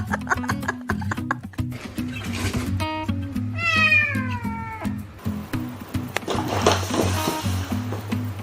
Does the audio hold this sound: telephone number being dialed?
no